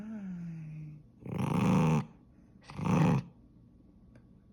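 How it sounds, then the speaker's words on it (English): A toy poodle puppy growls in two low, rumbling bursts, each about a second long and close by, after a person softly says a short greeting. "Are you growling at me?"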